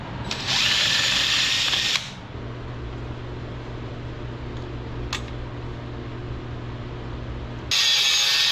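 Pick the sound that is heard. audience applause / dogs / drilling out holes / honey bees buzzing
drilling out holes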